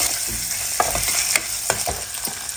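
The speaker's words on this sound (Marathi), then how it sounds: "आता आपल्याला उकडलेले बटाटे टाकायचे आणि ते त्याच्यात मिक्स करून घ्यायचे तेलामध्ये दहा पंधरा सेकंद" Boiled potatoes mixed into hot oil with cumin in a pan, with a loud continuous sizzle and several spatula scrapes and stirring strokes spaced through it, close up and with no voices.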